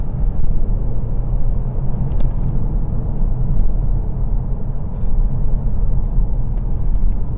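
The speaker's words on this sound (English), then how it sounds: "it'll say launch control active, and you're away." A BMW 320d F30 diesel pulls away hard with launch control, a loud, steady low engine and road rumble sustained throughout, close and continuous.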